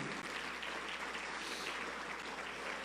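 Steady, dense applause from a church congregation, a continuous wash of clapping that stays even for a few seconds without voices.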